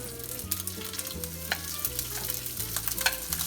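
Rice frying and sizzling in a pan for egg fried rice, with steady loud sizzle and frequent scraping stir strokes throughout, no talk.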